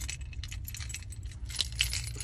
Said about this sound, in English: I got two sets of keys.